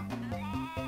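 Sheep bleating in a retro video game, several short wavering bleats in quick succession, clear and moderately loud.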